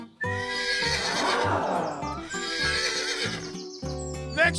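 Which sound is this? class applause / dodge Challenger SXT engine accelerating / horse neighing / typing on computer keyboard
horse neighing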